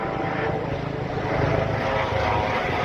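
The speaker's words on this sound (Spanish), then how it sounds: "Está pasando un helicóptero" A helicopter passes overhead, its steady rotor and engine drone loud and continuous throughout, heard alone without talk.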